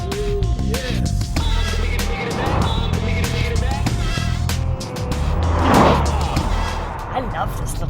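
A Fiat 500C convertible drives along with a steady engine and road roar, a thud like a door slam partway through, and a person talking over the noise.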